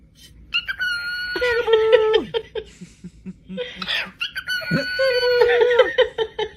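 Chicken-like bird clucking and squawking from a played video, a series of sharp, harmonic calls in bursts with short gaps, fairly loud and close.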